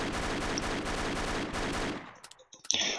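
Rapid automatic gunfire in ER:LC, a loud, fast stream of shots for about two seconds, then a few scattered, sharper reports close by.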